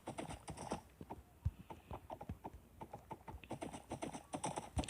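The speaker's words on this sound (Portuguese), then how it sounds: "Esse cavalo apareceu do nada." Hooves of a horse in a video game clip-clopping in a quick, irregular trotting rhythm, fairly quiet and close, with no talk over them.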